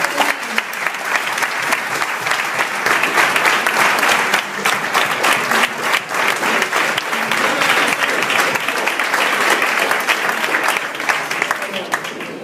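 Sustained audience applause at a 2012 Alicante event as the speaker Dan Higginson is welcomed on stage, dense and steady clapping from a large crowd throughout, with some voices mixed in.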